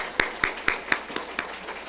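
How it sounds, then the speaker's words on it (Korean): A church congregation at Sunday worship claps in slow rhythmic unison, about seven distinct hand claps evenly spaced, moderately close in a quiet room. "박수 한번 쳐줘요"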